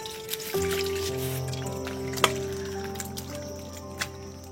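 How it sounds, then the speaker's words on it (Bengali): Thick chicken curry slides and drips from a kadai into a dish, soft wet trickles with a faint tonal hum and a couple of light clinks, close and quiet. "আমি কড়া থেকে ঢেলে নিচ্ছি।"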